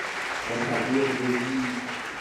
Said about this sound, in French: Est-ce qu'on peut applaudir encore, s'il vous plaît,